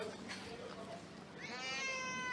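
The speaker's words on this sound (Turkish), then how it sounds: "Bu da Hüseyin abimizin kedisi" A cat in a shoemakers' bazaar in Malatya, Turkey lets out a long, rising meow after a couple of fainter cries, close and clear over a quiet market murmur.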